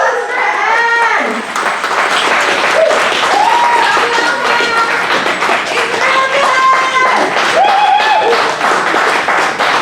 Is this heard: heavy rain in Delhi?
no